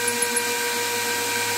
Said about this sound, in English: hand drill on low speed